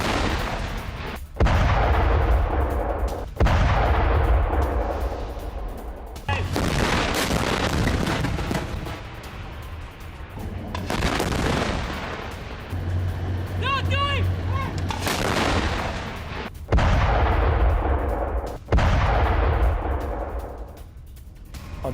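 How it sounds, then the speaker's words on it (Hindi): IDF artillery firing in South Lebanon: a series of heavy booming blasts, several loud shots spaced a few seconds apart, each with a rolling low tail, with faint voices in the background. "आईडीएफ आर्टिलरी फायरिंग में हिजबुल्लाह का बेस नष्ट।"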